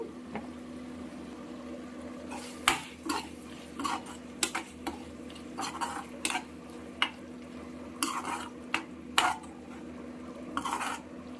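Salt is stirred into mutton fry in a pan: irregular metal scrapes and clinks of a spoon against the pan over a faint sizzle and a steady low hum, with no talking.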